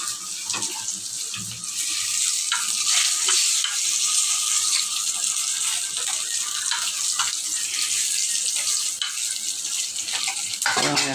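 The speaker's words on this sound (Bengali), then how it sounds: "এইভাবে মাছটা আমি বেজে নিব" Fish fries in hot oil, a loud, continuous sizzle with bright crackle and occasional pops and scraping stirs, steady throughout with no speech.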